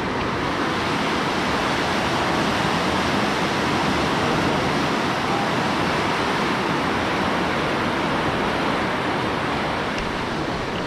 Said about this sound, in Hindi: गाइस गेट में को देखो कितनी तेज़ी से पानी निकल रहा है